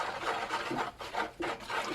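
Washing soda crystals and baking soda being stirred by hand into a melted homemade laundry mixture, a steady scraping, rasping stir with repeated strokes about every half second, close and moderately loud, no talking.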